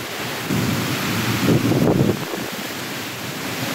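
A dense wash of heavy rain in a Kalbaishakhi nor'wester storm in southern Bangladesh, with a low rumble of thunder building and fading in the middle, the storm sound continuous throughout.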